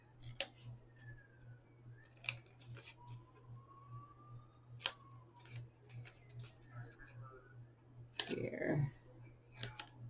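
Scissors trimming paper or craft material, several quiet, sharp snips and clicks spaced irregularly over a soft hum, with a louder rustle and handling noise near the end and a brief spoken word.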